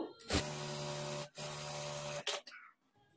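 A sewing machine stitches a blouse lining to the main fabric with a steady close whirring hum in two long runs, broken by a short pause and ending in a few faint clicks.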